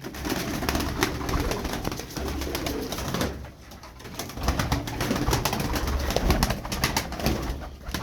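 Pigeons coo steadily and repeatedly close by, a flock's low murmuring calls overlapping with some light rustling.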